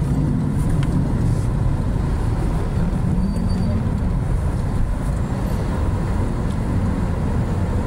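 Heavy congested road traffic on a steep hillside road to Antipolo gives a loud, steady engine rumble with no breaks, vehicles close by, and a voice faintly present in the background.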